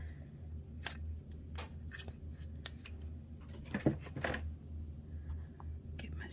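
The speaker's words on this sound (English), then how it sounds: "Get my scissors, cut that off." A few quick snipping sounds of scissors cutting cardstock for a handmade card near the middle, over a low steady hum and faint background noise.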